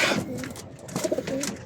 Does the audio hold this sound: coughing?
no